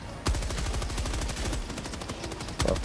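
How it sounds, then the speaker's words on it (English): Rapid automatic gunfire from enemies in a video game rattles loud and close in a continuous burst, with sharper heavy shots at the start and near the end. "Oh, they're shooting at us."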